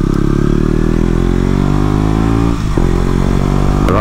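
A 2018 KTM Duke 125 motorcycle fitted with an Arrow exhaust rides along with a close, loud, steady buzzing engine note and a brief dip in throttle partway through.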